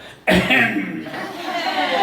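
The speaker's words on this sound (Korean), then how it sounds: "여러분 큰 기침 한번 해보세요" A church congregation at a Sunday worship service coughs loudly together on cue, a sudden burst of mixed coughing and throat-clearing with some chuckling that trails off into a murmuring crowd.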